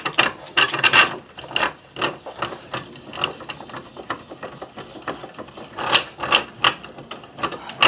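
An old bench vise presses a big suspension bushing out of a VW Mk3 Golf or Jetta part, giving a close, loud run of rasping, ratcheting creaks and grinding squeaks in uneven bursts.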